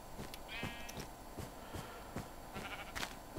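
Sheep bleating in Minecraft, a couple of short wavering bleats over a busy, low rumbling game background with repeated soft thuds, moderately close.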